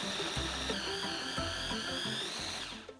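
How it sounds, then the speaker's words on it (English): A food processor grinds sage and butter with a steady high whine, the motor running continuously for a few seconds before spinning down. "So I'm going to grind these up in the grinder now."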